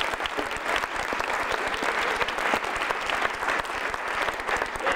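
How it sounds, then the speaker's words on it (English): A theatre audience applauds an MC at a film premiere, dense steady clapping from a large crowd that holds evenly and fills the room throughout. "How about a round of applause for Stuart Showstack"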